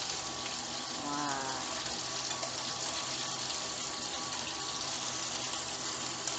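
Chicken wings seasoned with pepper and basil pan-fry with a constant, hissing sizzle that holds at an even level throughout.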